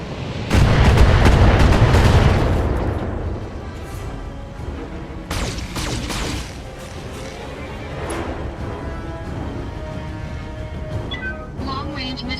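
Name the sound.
mech weapons firing in Battletech video game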